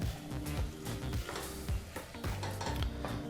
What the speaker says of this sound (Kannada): ಈ ಟೊಮೊಟೊ ಹಣ್ಣನ್ನು ಸಹ 2 ರಿಂದ 3 ನಿಮಿಷ ಫ್ರೈ ಮಾಡ್ಕೋಬೇಕಾಗತ್ತೆ